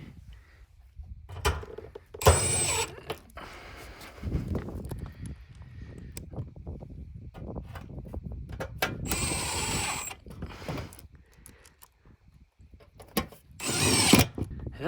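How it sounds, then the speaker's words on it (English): A power drill drives a row of old screws into plywood sheathing on a cabin entry cover, with several short, sharp whirring bursts separated by quieter handling noise and faint clunks outdoors. "the last thing I want to do is put this row of screws in"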